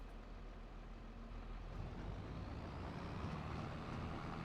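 A farm vehicle drives in Farming Simulator 25, its engine giving a steady low rumble with broadband road and wind noise, unbroken and even throughout.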